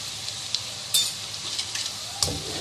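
Potato and onion pakoras sizzle steadily in hot oil while being turned with a slotted spoon, the frying hiss punctuated by a few sharp metallic clinks and scrapes.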